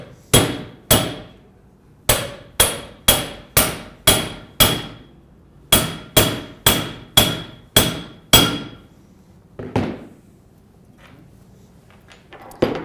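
Sharp metallic hammer blows drive a special tool onto the male rotor bearing of a compressor, coming in two quick strikes and then a steady run of about a dozen evenly spaced, loud, close impacts, with fainter handling clatter afterward.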